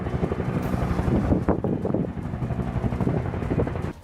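Firefighting helicopters flying over a forest fire amid strong winds, heard as a steady, loud rotor rumble mixed with wind buffeting that continues throughout.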